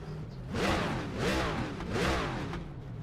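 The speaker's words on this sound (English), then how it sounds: "I love the sound of this car." Race car engine in a sim racing game swells and falls through three rising revs and gear changes, a buzzy mid-level drone with whining harmonics, heard alone.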